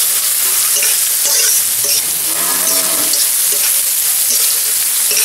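Chickpeas roast in a pan for poha chivda, giving a loud, steady sizzle close by with repeated scraping strokes from the stirring spoon, and no one speaking.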